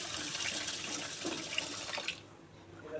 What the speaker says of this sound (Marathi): आता ह्याच्यामध्ये पाणी घालून घ्यायचं आहे